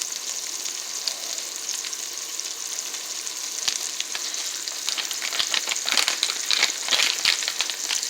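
Ribeye steak and vegetables sizzle steadily in a pan with oregano, a continuous crackling hiss broken by a few scraping stirs, close and moderately loud with no voices.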